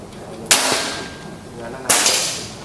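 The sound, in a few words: shot from Bocap FX Mahameru wooden air rifle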